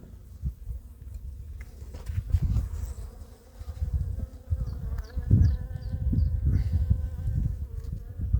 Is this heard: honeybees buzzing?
yes